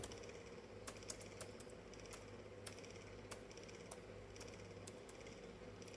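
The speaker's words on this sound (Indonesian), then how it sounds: "kita ketik seperti ini di laptop" Faint, light key clicks come from someone typing on a laptop keyboard, tapping a short string of keys at an irregular pace over a steady background hiss.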